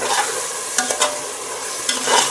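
Bagara rice masala frying with curd in a pan, a loud continuous sizzle broken by several close scraping stirs of the spoon against the pan, with no voices.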